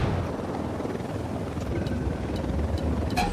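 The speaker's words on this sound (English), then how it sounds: "Helicopter" Helicopter in the game Ghost Recon Wildlands, a steady low rotor rumble with wind-like noise, fairly close and continuous, with a few faint clicks on top.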